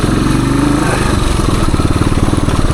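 A 1978 Suzuki DR370 dirt bike thumping steadily on a woods trail, its single-cylinder engine loud and close with a low pulsing beat that rises slightly under throttle.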